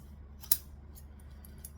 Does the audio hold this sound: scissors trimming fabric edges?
yes